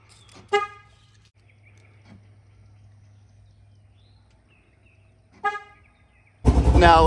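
Two short horn chirps from a C5 Corvette locking, one near the start and one a few seconds later, each brief and loud over a steady low idle hum, followed by a sudden burst of broadband noise at the end.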